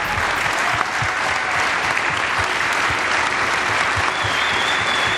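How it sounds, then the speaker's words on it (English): A crowd gives a loud, dense round of applause for the home rider on the podium at a MotoGP esports series ceremony, the clapping steady and unbroken throughout. "let's have a massive round of applause for the home rider on the podium"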